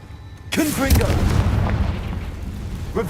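A Confringo blasting spell explodes in Hogwarts Legacy with a sudden loud boom, followed by a long rumbling, crackling tail and a smaller burst near the end.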